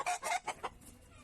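Chickens clucking close by in a quick run of four or five short calls, loudest at the start and trailing off into quieter background noise.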